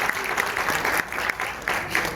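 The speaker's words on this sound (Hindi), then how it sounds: "बहुत सी तालियां जी इसके लिए" An audience claps at a Pakistani movie launch ceremony, a dense burst of hand claps with slight surges in intensity, close and lively throughout.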